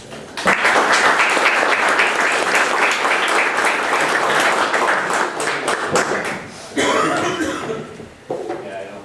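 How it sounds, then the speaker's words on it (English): An audience at a business presentation event applauds loudly and continuously for several seconds, with scattered coughs and throat clearing, then the clapping fades into a few trailing claps. "please give a warm round of applause for John with Design Works"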